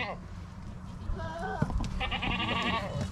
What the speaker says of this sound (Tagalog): pinaghalo nila yung tupa at kambing